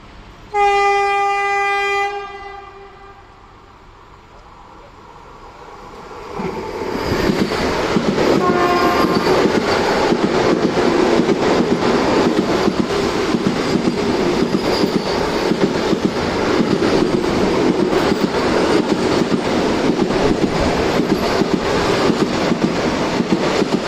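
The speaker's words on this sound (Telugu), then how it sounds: "ఇప్పుడు వందే భారత్ ట్రైన్ అయితే వస్తుంది" A loud train horn blares in long harmonic blasts, then a Vande Bharat express train roars past close by near Falaknuma station with a steady rumble and rattle lasting many seconds.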